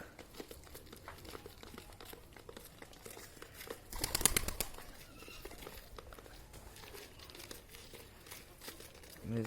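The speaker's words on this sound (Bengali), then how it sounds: "আমার বাসার কবুতর আসছে সব খাওয়ার জন্য ধান দিয়েছে" Pigeons at a home feeding spot scattered with paddy grain give rustling, pecking and a few soft coos, with one louder flurry of wing flaps midway against a quiet background.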